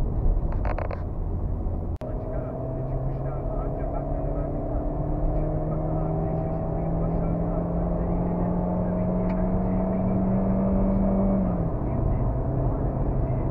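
A Hyundai i20 1.4 engine hums steadily from inside the cabin, its rising tone climbing smoothly under acceleration for several seconds before dropping at a gear change, with a brief click near the start.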